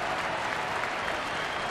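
Baseball stadium crowd clapping steadily in support of a pitcher, a continuous distant wash of applause during a Diamondbacks at Brewers game.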